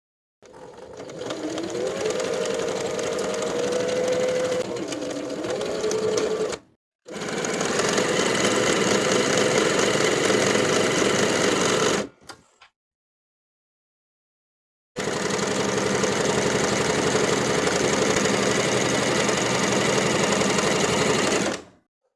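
A sewing machine runs at steady speed top stitching a seam on an upcycled colorblock tank top, in three long, even runs broken by a brief pause and a longer silence, close and loud with no talk.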